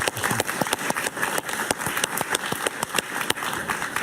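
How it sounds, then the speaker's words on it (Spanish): A talk-show studio audience claps for guest Pablo Medina, former Venezuelan presidential candidate, with sparse, uneven claps rising and falling over a low rumble. "Un aplauso para él, por favor."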